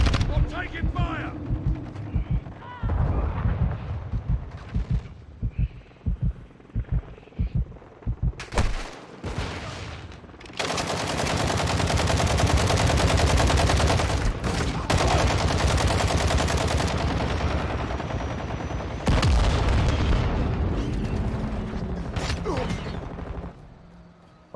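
Heavy gunfire fills a Call of Duty Modern Warfare II match, opening with short scattered bursts and then building into long, loud sustained automatic fire. Players talk over the shooting.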